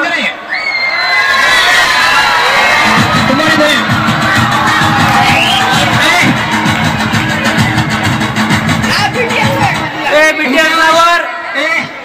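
School audience of children at a Rajmata Jijau and Swami Vivekananda birth anniversary event, shouting, whooping and cheering loudly in a sustained roar, with an adult voice over the crowd.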